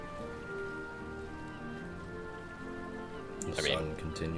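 Steady rain ambience for a fantasy tabletop roleplaying session, a soft continuous hiss laid under sustained musical tones, with a brief louder burst near the end.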